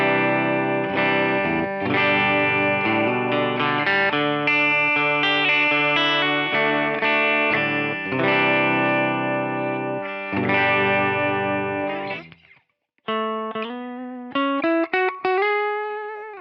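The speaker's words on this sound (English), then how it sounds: "Let's hear some clean on the bridge pickup." Fender Player Series Jazzmaster electric guitar in Capri Orange playing a clean tone on the bridge pickup, bright strummed chords and single notes ringing clearly for over ten seconds, a brief pause, then slides and picked notes.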